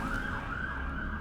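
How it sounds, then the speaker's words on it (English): An ambulance siren passes outside, a steady wailing tone carrying through the room at moderate level over a low background rumble, with no talking. "There is an ambulance passing by."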